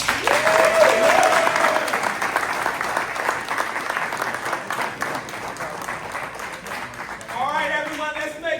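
Audience at a Think+ Energy event in Elizabeth, New Jersey applauding, a dense wash of clapping that fades gradually, with a voice speaking over it near the end.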